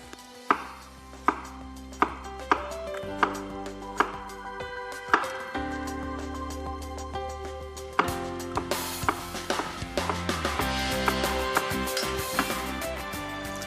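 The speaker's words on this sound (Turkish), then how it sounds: "Şimdi son patateslerimi de doğruyorum." A knife chops potatoes on a cutting board for a potato pilaki dish, with evenly spaced sharp chops that turn into a faster run of cuts, heard over background music with no talk.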